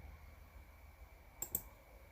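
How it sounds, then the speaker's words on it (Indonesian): Two quick, faint key clicks sound in close succession as a computer keyboard's Ctrl and D keys are pressed to duplicate an object in PowerPoint, over a quiet room hiss. "kita gandakan dengan menekan tombol CTRL ditambah tombol D pada keyboard secara bersamaan"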